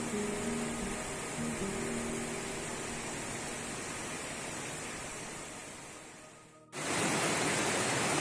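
A river in strong flow, with loud, continuous rushing water heard close for the whole stretch and a brief dip just before the end.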